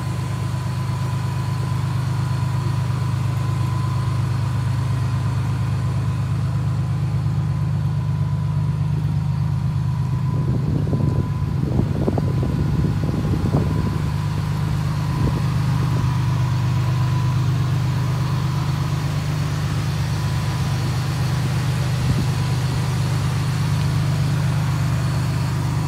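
A 2003 Ford F-150 pickup idles steadily at an auction lot with a low, even engine hum throughout, joined briefly midway by a louder burst of rattling.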